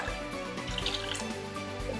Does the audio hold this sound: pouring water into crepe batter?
yes